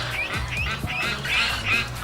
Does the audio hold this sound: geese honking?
yes